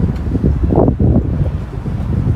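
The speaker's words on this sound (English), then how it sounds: "you can probably hear some of the wind gusting" Wind gusting outdoors on a cold Friday night in downtown Toronto, a loud rumbling buffet of gusts against the microphone, rising and falling in uneven surges with no talking.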